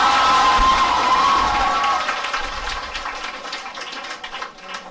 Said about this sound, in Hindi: जोरदार ताली और स्वागत करो बेटे